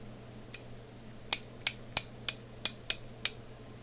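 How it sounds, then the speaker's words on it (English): A vintage Craftsman 44996 thin-profile half-inch drive ratchet clicks in a series of about eight sharp, close ticks, one alone and then a quicker irregular run. "this is what it looks like when it's ratcheting"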